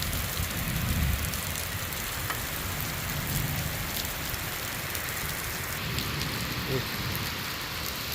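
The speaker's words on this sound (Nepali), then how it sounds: "यताको जङ्गलहरू हरियाली छ, कालो निलो भइरहेको छ पानी परेर।" Heavy rain falls steadily over forest in Nepal, a dense continuous hiss that stays near and even throughout, with faint voices blending into the downpour.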